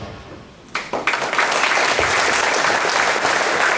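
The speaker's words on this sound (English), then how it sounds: "another round of applause for our coaches, please" Applause for the coaches at a high school track and field awards ceremony, a crowd bursting into loud, dense clapping after a brief quiet moment and sustaining it evenly to the end.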